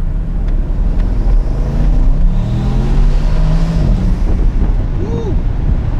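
A 2019 Bentley Continental GTC V8 convertible accelerating gently on a short straight, its low engine note rising under heavy wind rush from the open top.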